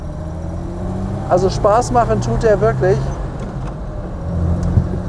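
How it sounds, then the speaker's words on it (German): Engine of a 1953 Mercedes 220 sedan while driving, a steady low hum running underneath someone talking in the cabin. "Maschine läuft klasse."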